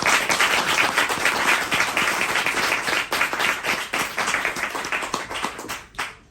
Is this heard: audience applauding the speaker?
yes